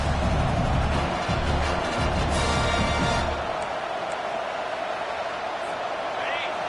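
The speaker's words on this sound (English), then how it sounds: "This crowd trying to make life miserable for this offense." A stadium crowd at a college football game roars loudly and steadily, swelling early then settling into a sustained wash of noise under a commentator's voice.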